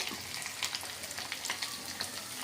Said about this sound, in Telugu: మన తాలింపు గింజలు వేగిపోయినాయి